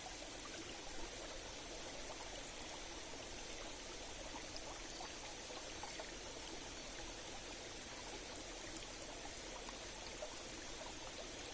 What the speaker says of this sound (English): observing the water swirling and flowing all around